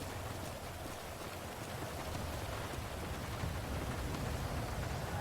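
Steady, heavy rain in the game Nopixel 4.0 pours down, a dense hiss that stays constant throughout with no voices.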